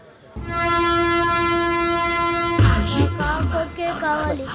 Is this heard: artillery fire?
no